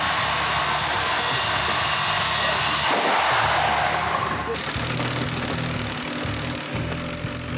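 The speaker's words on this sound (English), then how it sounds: "I'm drilling a 1-inch hole every 6 inches or so" A drill bores 1-inch holes into a house wall, producing a loud, sustained motor whine and grinding buzz that shifts in pitch partway through as the bit cuts.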